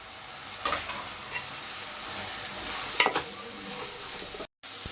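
Turmeric, coriander and chilli powder frying in a pan for avarekalu bath make a soft, steady sizzle with a few sharp clicks of stirring, and the frying stays fairly quiet throughout.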